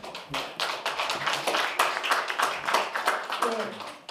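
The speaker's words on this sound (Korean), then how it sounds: "박수 한번 부탁드립니다." Audience applause at a party anniversary press conference, a steady patter of many hands clapping for the whole stretch at moderate level, with no voices over it.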